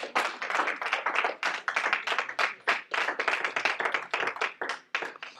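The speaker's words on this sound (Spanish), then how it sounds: "Un aplauso a Cristo por esa confesión." Congregation applauding together in a church service, a dense run of many hands clapping that holds steady and fairly loud for several seconds with no talking over it.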